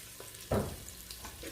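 Garlic and onion sauté with salt in a hot pan for a Kerala-style dish, with a continuous close sizzle and a brief louder clatter of stirring partway through.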